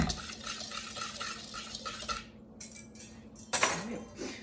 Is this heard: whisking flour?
yes